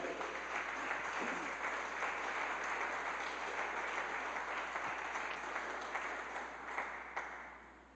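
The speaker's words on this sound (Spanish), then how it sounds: "Por favor, denle un aplauso." A church congregation claps during a sermon, a continuous, even wash of applause from many hands, somewhat distant and quiet, fading slightly near the end.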